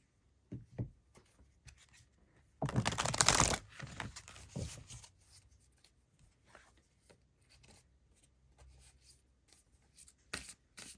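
I Ching cards being shuffled and drawn, with a loud rustling burst of shuffling followed by softer scattered rubs, taps and card handling, close up in a quiet room.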